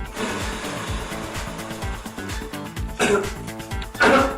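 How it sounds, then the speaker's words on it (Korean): Two short, forceful throat clearings to expel phlegm during respiratory rehabilitation, over a steady background hum, each a rough burst of breath roughly a second apart. "헛기침을 통해 가래를 배출합니다"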